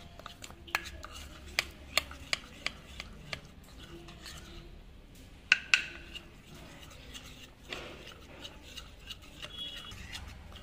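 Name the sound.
stirring ragi flour and milk face pack paste with a spoon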